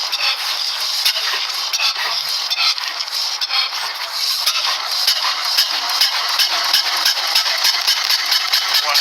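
The engine of the first car, built 134 years ago, runs with a dry, rapid chuffing and rattle, close and loud, steady throughout with slight rhythmic pulses.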